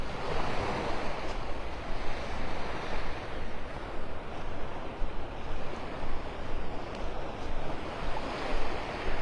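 Ocean waves wash onto the beach at Delnor-Wiggins in North Naples, Florida, on a low-tide morning, a steady broadband roar of surf with rolling swells and some wind.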